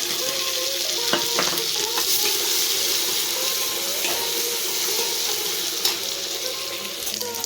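Ginger being stirred into a sizzling Punjabi tadka of cumin for aloo matar, a steady frying hiss with scraping spoon strokes throughout, close and continuous with no talk.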